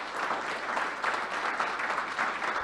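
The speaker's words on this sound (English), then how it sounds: "Last round of applause for him" Audience applause closing a product management conference talk, a steady dense patter of clapping hands sustained for a couple of seconds.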